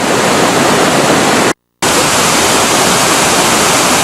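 Waterfall at Plitvice Lakes, Croatia, a loud, steady broadband rush of falling water close by, briefly cut off for a moment partway through and then resuming.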